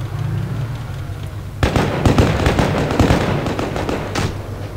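Rapid tank gunfire in the World of Tanks Blitz game, a quiet rumble then a sudden loud burst of sharp cracks and booms continuing for several seconds.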